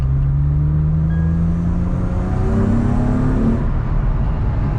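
A car with a freshly built 6-speed gearbox pulls hard on its first test drive, the engine rising in a loud, close, continuous rumbling drone that climbs in pitch before easing off near the end.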